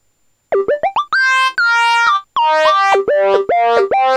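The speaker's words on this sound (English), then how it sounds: "And it sounds a bit like a sync lead." A Yamaha PSS-480 FM synth plays its mute trumpet voice reshaped into a sync-lead tone, with a short run of quick, bright, buzzy notes that slide between pitches, then longer held notes.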